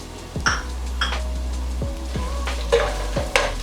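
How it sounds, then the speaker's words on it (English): Cardamom pods sizzle and fry in a hot pan for a breadfruit beef curry, a steady crackling hiss broken by several sharp stirring scrapes and light clinks of a utensil against the pan. "We'll add the cardamoms. Once these are getting fried, we will add the onions."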